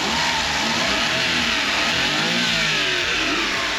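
A cheap minivan engine revs hard and close, a loud, steady roar that swells and holds for the whole stretch with no talking over it.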